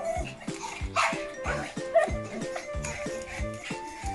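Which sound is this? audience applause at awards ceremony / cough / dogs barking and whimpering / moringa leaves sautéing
dogs barking and whimpering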